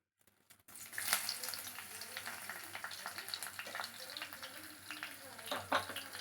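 Hot oil heating in a pan for tempering, ready for garlic and spices in a ladyfinger and tomato fry, giving a faint continuous sizzle and crackle close by after a brief quiet start.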